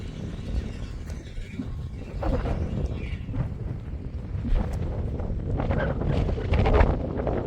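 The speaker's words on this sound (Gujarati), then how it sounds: "પવન સુસવાટા મારે." Wind gusting and roaring across the microphone on an open farm field, steady broadband rush that swells louder toward the end, with no talking.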